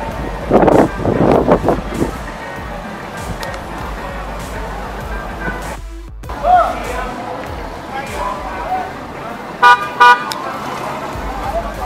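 A car passes along a street at Largo Dois de Julho near the beach in Salvador, Bahia, with wind buffeting the microphone, brief horn-like toots and a person talking over the traffic.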